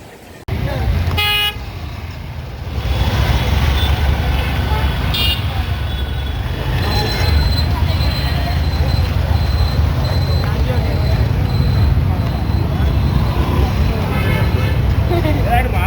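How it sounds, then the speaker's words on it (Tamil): Weekend road traffic in Pondicherry near the beach, a steady roar of passing cars, buses and motorbikes with several sharp car horn toots early on, and people talking throughout. "வீக்கெண்டில் பாண்டிச்சேரி டிராஃபிக்கை பாருங்கள்."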